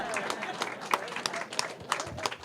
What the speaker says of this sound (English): I'll take a clap for that one